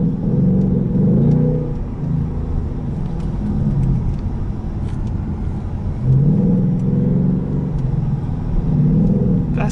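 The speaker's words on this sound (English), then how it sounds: "When you switch modes, your exhaust is gonna be a lot louder than this." Engine and exhaust of a 2019 Ford Mustang GT Premium on the move, a loud, steady low rumble from inside the car with two swelling rev surges about six seconds apart, no talking.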